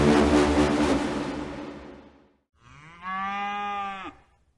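Cows moo in a radio drama, first a long, loud, wavering low bellow, then a shorter, clearer moo that trails off, with no talking over them.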